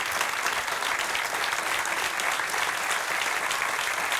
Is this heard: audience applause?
yes